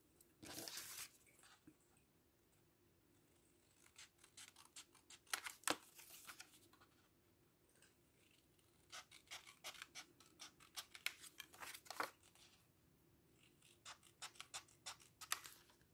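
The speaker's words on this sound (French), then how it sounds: "Donc là, je vais couper ici, ici, ici." Scissors cutting paper for a small pouch craft: quiet, close snips arriving in short bursts with pauses between them, each a dry crisp crunch of blades through paper.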